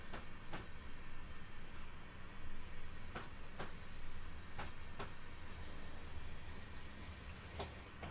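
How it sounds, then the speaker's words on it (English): A Union Pacific train rolls past at a distance in Cheyenne, a continuous rumbling roar with periodic clacks from the wheels over rail joints. "That train is still going by"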